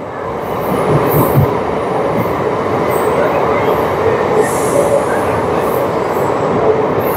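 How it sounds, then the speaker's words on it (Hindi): Sahebganj–Jamalpur EMU local train arriving, a loud steady rumble of rolling wheels with high squeals of wheels on rails, close and continuous throughout. "देखें ये ट्रेन आई"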